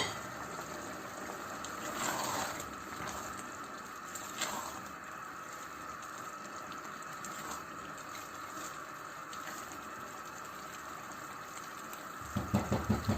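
Chana and mash dal cooking on high flame in a pot as its water dries off, a faint continuous bubbling sizzle with a few soft knocks, ending in quick clattering taps, with no talk.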